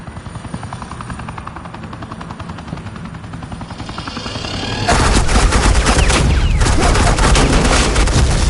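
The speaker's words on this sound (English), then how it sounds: "Suppressing fire." Heavy suppressing gunfire in the Batman: The Enemy Within video game, a loud sustained barrage of rapid shots that erupts midway over a rumbling helicopter-like drone, staying dense and forceful to the end with no talking.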